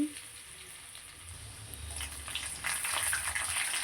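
Crushed garlic cloves frying in hot oil for an ivy gourd chutney tempering, a soft, steady sizzle close by that swells slightly louder in the last second, with no talking.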